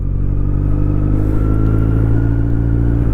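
A 2023 Kawasaki Z900 motorcycle fitted with a Mivv GP Pro aftermarket exhaust idles close by with a deep, steady rumbling burble, loud and unbroken, with no voices.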